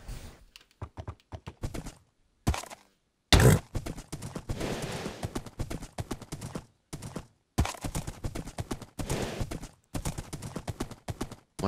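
Horse hooves clip-clopping in Minecraft, bursts of quick clattering steps separated by short silences, close and fairly quiet, with no talking over them.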